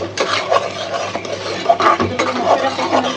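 Spices such as cumin, chili and bay leaf being stir-fried in a pot for khichuri, with steady scraping and rubbing of a spoon against the pot, near and continuous.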